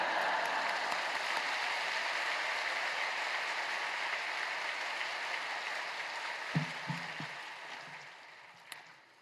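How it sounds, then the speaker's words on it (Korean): Church congregation at a Friday worship service clapping in steady, dense applause that fills most of the clip before tapering off, with a few brief lower sounds near the end. "할렐루야로 하나님께 영광 돌리고 박수로 맞이하시겠습니다"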